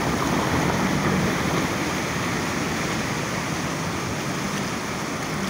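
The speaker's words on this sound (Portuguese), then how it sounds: "Água com muita força, você vê aqui, olha." Strong floodwater rushes over a submerged road crossing between Tabuleiro do Norte and Limoeiro do Norte in Ceará, Brazil, a loud, unbroken roar and hiss with no voices.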